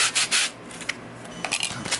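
Sandpaper mounted on a sanding block rubbing over a flat 3D-printed prop blaster part, giving close, dry scratchy strokes in an uneven back-and-forth rhythm, louder at the start and then lighter.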